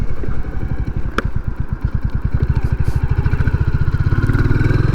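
A Royal Enfield Classic 350 single-cylinder engine thumps steadily under way, its loud, even pulsing rising slightly in pace as the ride goes on, with wind noise in the background.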